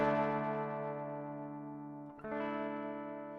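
A sustained, effected tone runs through the Dragonfly effect plugin on iOS, with the Black Hole reverb placed after it in the chain. It sounds rich and harmonic, dips briefly near the two-second mark, then resumes, with no talking.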